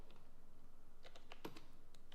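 Keys tapped on a computer keyboard while entering a terminal command, a quiet cluster of a few crisp clicks in the second half over a low steady hum.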